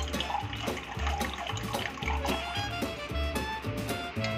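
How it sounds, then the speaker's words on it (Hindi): Ground cucumber juice poured and strained through a kitchen strainer, a continuous close trickling and splashing of liquid with a pulsing flow. "मैंने इसको पीस लिया है खीरे को और अब हम इनको छानेंगे।"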